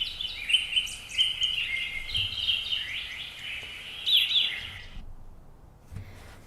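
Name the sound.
birds chirping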